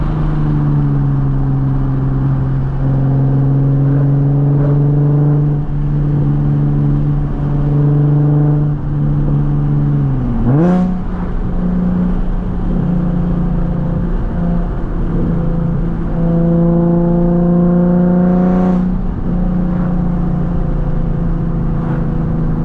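A Nissan 370Z V6 with a loud Tomei exhaust drives along a road, humming steadily then revving up and dropping through gear changes, close and prominent with no voices.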